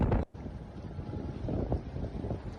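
Strong wind buffets the microphone during city flooding in Maryland, a steady loud roar with a brief dropout near the start, no voices heard.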